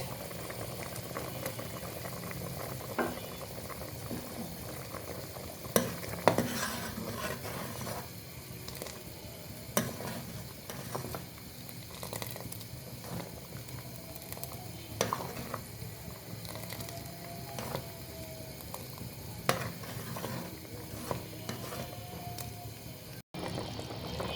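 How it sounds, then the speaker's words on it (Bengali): A pot of chicken corn soup simmers and bubbles softly while a spoon stirs it, with occasional clinks and scrapes against the pot rising above a low, steady bubbling. "এই পর্যায়ে অল্প অল্প করে দিচ্ছি আর নাড়ছি।"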